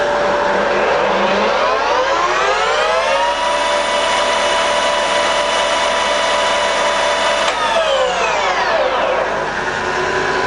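A Colchester Mascot 1600 center lathe with a 2000 mm bed running in reverse, its loud steady mechanical whine rising in pitch as it spins up, holding constant, then winding back down, with no talk.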